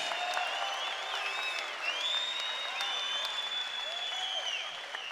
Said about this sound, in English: how about another round of applause for our 2 warriors in center cage?